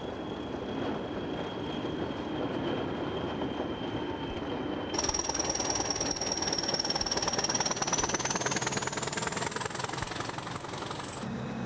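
Hunslet-Barclay Class 20 diesel locomotives, used for weed-killing trains across the British rail network, give a loud, steady rumble. Partway through, a high squealing tone joins in and slowly rises, with no talking.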